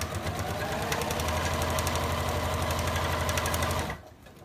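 A sewing machine stitching fabric for a reading pillow runs fast and steady with a rapid, even mechanical chatter, close and loud, then stops abruptly near the end.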